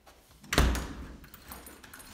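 A front door shuts with a firm thud, followed by faint metallic rattles of keys as it is locked, close by and without voices.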